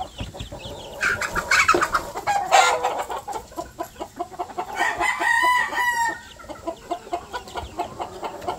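Chickens in a coop on a small poultry farm cluck and chatter, with a rooster crowing loudly in bursts over the ongoing clucking.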